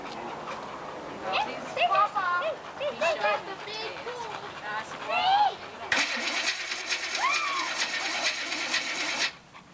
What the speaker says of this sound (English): He's scared of the engine sound.